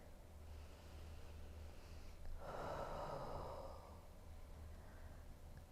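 A slow, deep yoga breath, audible as a soft, close, airy exhale lasting a little over a second in an otherwise quiet room.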